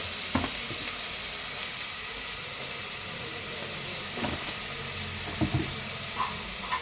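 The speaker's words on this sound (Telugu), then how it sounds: "రెండు ఉల్లిపాయలండి మంచి చిన్న కట్ చేసుకున్నాను వేసేసుకోవాలి ఇవైతే మనకి మంచిగా మగ్గిపోవాలండి" Finely chopped onions frying with salt in a pan for a country chicken curry, a steady close sizzle with occasional soft clinks and stirring scrapes, no talk.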